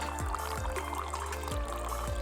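Water poured out of a glass Chemex coffee maker after rinsing the paper filter, a steady continuous liquid stream with faint periodic glugs, close and fairly even in level.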